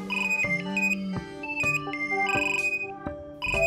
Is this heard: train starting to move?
no